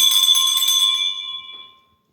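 A school hand bell rings loud and close with bright metallic clangs for about a second, then its tone rings on and fades out.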